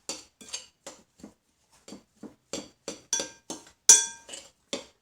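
A spoon stirs fresh cranberry sauce in a pot, making a dozen or so separate clinks and scrapes against the pot in an uneven rhythm. The sound is close and clear, with no other sound in between.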